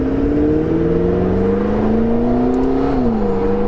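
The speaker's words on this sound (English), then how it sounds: "Slightly different exhaust tone to it, a little bit more like the 12C." McLaren 650S Spider engine and exhaust droning steadily from inside the cabin while driving, a loud sustained tone that rises slowly then drops as the revs shift, no talk.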